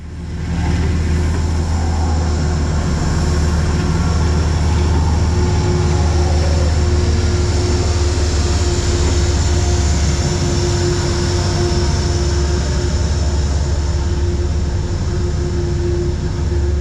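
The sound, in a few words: MTA locomotive 225 moving Metro-North train 1897 westbound in rain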